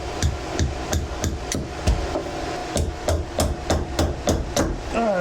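A hammer strikes wood while a pallet-wood Viking mallet is being built, sharp close knocks landing in a quick, slightly uneven rhythm of roughly two blows a second, with no talking.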